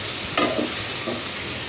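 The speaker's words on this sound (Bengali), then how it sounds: "আমি এবার পাশের চুলাতে আমি এবার চিকেনটা ভাজবো আর এটাতে মশলাটা কষাবো" Chicken and spice paste sizzle and fry in a hot pan while being stirred, with a steady hiss broken by a couple of scraping strokes close by.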